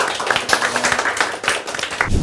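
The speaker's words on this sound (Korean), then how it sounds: "큰 박수 부탁드리겠습니다" A crowd claps together in continuous applause, many hands close by, loud and dense throughout.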